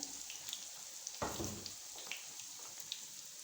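Eggplant slices sizzle in hot oil, a faint crackling hiss with scattered pops, then a louder rush as more pieces drop into the pan before it settles back to a steady fry.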